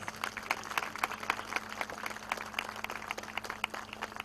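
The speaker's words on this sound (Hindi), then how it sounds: "उनके स्वागत के समय म्यूजिक के बजाय आप सबकी तालियों की यहाँ पे आवाज" Applause from an audience welcoming actress Raveena Tandon at a construction company branch launch event, fairly faint and steady, with scattered claps over a low constant hum.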